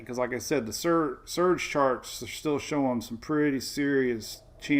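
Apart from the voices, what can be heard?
No everyday noises stand out.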